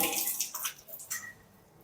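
Water runs from a newly fitted tap in a freshly tiled bathroom. It makes a short, faint, hissing splash in uneven bursts, heard alone.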